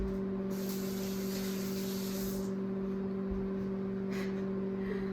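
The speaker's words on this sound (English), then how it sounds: "let me just go rinse off my hands" Water runs from a sink tap while hands are rinsed, a soft, steady spray-like hiss that swells for a couple of seconds and then eases to a quieter flow over a constant low electrical hum.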